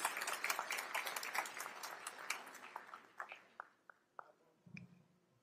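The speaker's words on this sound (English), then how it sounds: "give a thunderous Blue Bear applause to Dr. Otis Moss III" An audience at a fall university convocation gives a dense round of applause that starts full and close, then thins into scattered individual claps before fading out.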